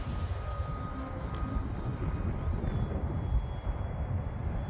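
A Dynam Pitts Python biplane model flying outdoors in strong wind, its small electric motor whining at a steady pitch that shifts and fades as it passes, under heavy wind rumble.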